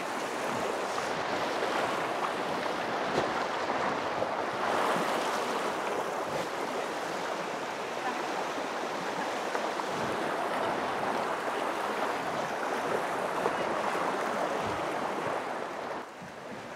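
Steady, loud rushing water and wind surround a kayak crossing a river near Sohoton Cave, a continuous wash of flowing water and gusty noise with no clear strokes standing out.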